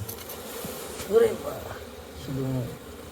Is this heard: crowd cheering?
no